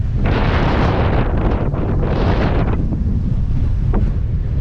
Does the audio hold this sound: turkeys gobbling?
no